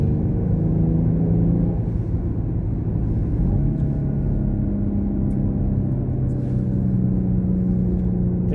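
A 2022 Genesis GV70 SUV accelerating with passengers aboard, heard from inside the cabin as a steady low engine rumble that rises gradually in pitch as the vehicle gathers speed.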